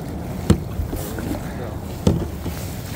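A small boat rowed on the Pacific while fishing, two dull oar-stroke thumps about a second and a half apart over steady wind and water noise, close to the microphone.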